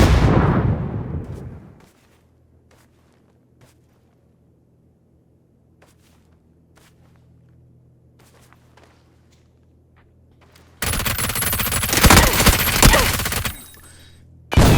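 Gunfire in a first-person shooter video game comes as a loud, dense burst of shots late in the clip, after a quiet stretch with faint footsteps and an opening blast that fades out.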